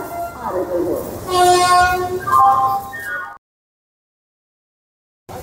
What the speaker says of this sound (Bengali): এই হচ্ছে ট্রেন গণদেবতা এক্সপ্রেস